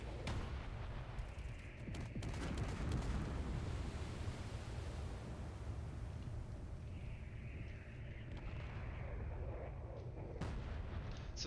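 Gatling guns and heavy rounds pound a small destroyer during a bombardment in Space Engineers, a dense continuous rumble of deep booms and rattling fire with sharper cracks near the start and end.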